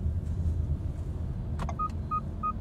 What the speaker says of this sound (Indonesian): Nah itu suara blind spotnya.